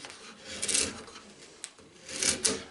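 Sharp chisel paring across the edge grain of a wooden board, two soft scraping strokes with a dry rasping hiss, close and fairly quiet, with a brief tap between them.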